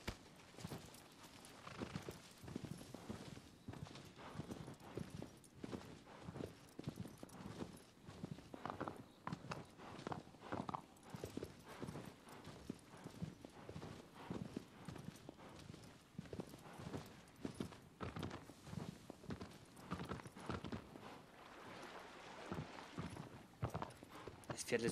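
Horse hooves clip-clop steadily in the video game Shadow of the Colossus, a continuous rhythmic trot heard under someone talking quietly over the gameplay.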